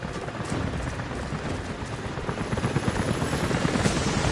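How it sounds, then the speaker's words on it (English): Helicopters approaching in the video game Rise of the Tomb Raider, a steady loud rotor drone with rhythmic blade chop that grows slightly stronger, heard alone. "helicopters are headed your way."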